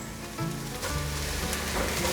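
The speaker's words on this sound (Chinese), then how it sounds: "用筷子一起拌炒。" Noodles and bitter melon are stir-fried with chopsticks in a hot pan, giving a continuous close sizzle that swells slightly as the food is tossed.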